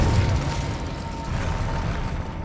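Confringo explosive spell in Hogwarts Legacy bursts with a muffled, rumbling blast, moderately loud and close, followed by a steady crackling rumble with a faint tonal hum that lingers for a couple of seconds.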